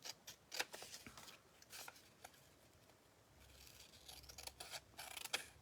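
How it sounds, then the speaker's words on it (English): Scissors snip around the edges of a printed paper cutout for a princess-themed junk journal, a run of quick, close, crisp cuts with uneven pauses between them, fairly quiet and with no talking. "so we'll just trim it"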